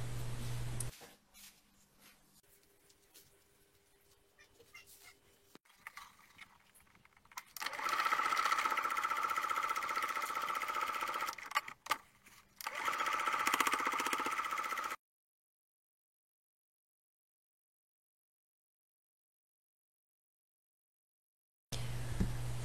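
A domestic sewing machine topstitching 2 mm from the edge of a foldable fabric bag, catching the handles; steady mechanical whirring runs in bursts separated by pauses, then cuts off into silence, with a brief return at the end.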